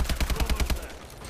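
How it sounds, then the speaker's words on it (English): Rapid gunfire from a Call of Duty Advanced Warfare campaign firefight, a quick burst of a dozen or so sharp shots in steady rhythm, loud and close, tapering into a rumbling tail. "Getting shot."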